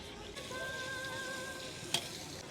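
Ginger-garlic paste fries for a Nagpuri Savji vajdi masala, giving a soft, even sizzle with a faint thin tone and one brief clink near the end.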